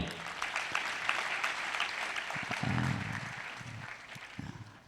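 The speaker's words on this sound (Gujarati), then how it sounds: "યુગભાઈ માટે જોરદાર તાળીઓ." Loud applause from the audience at a youth camp session for Yugbhai, a dense crackle of clapping that holds steady and then gradually tapers off near the end.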